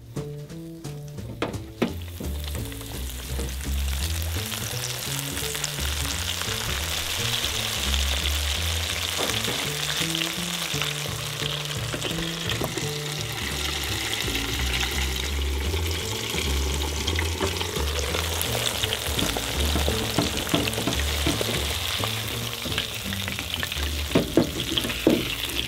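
A big fish fillet in a mustard and Shore Lunch coating deep-fries in hot grease, bubbling and crackling loudly up close with a steady sizzle that keeps popping throughout.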